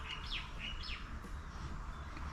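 Small birds chirp in repeated quick tweets over a steady outdoor background on a large rural farm in Thailand, fairly faint and with no voices.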